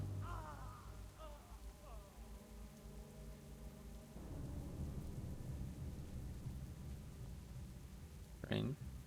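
Rain and thunder ambience in World of Warcraft. A voice-like harmonic sound comes first, then a steady rain hiss and low rumble fill the rest, with a brief sharp burst near the end.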